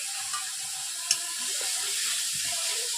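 Pasted onion frying in a pan with a little salt for a Bengali doi katla curry, a soft, steady sizzle with a brief clink near the middle, heard alone at close range.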